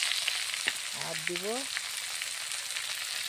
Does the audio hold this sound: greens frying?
yes